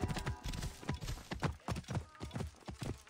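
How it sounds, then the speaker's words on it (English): Horse hooves clip-clop in a steady walking rhythm through the video game Assassin's Creed Origins, close and fairly loud, repeating several times at night with a faint whinny mixed in. "There's a fiery horse."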